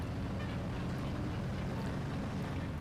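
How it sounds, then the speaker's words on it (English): Steady low engine rumble of motorbikes heard from outside, a continuous droning hum with no talk over it, fairly loud and unbroken throughout. "this is the sound of those IRL motorbikes outside."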